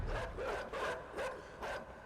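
Dogs in the video game Inside bark in four evenly spaced bursts, somewhat muffled and moderately loud over a low rumbling background.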